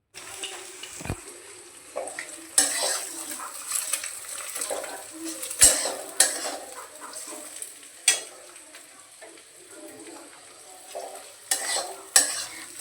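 Potato, onion and vegetables frying for chow mein, a steady sizzle broken by repeated scraping and stirring strokes of a spatula against the pan.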